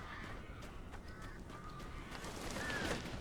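A bird caws in the horror video game Alan Wake Remastered, a couple of short harsh calls rising over a dark, rumbling ambient background, fairly distant and no voices.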